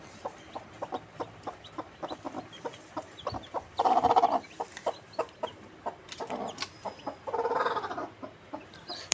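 A hen clucks steadily in a rhythmic series of short calls while newly hatched black chicks peep around her, with two louder bursts of clucking; close and clear, no talking.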